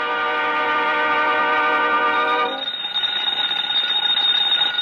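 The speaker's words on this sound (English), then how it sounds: "it's not the phone, it's the smoke alarm" A loud electronic smoke alarm sounds continuously, then shifts to a thinner, higher tone partway through, with no talking.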